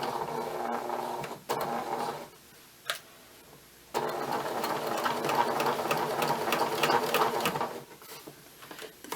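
A sewing machine runs in rapid bursts while stitching the bottom hem of a thick shirt, straining as it pushes through the bulky ends, with short pauses between runs, close and steady.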